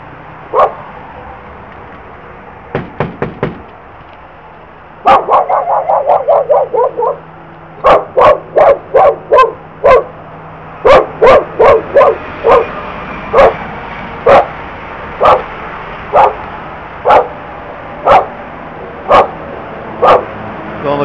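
A dog barks repeatedly at a property, starting with a few scattered barks, then a rapid burst of yips, then steady loud barks at a regular pace, close by and without talking over them.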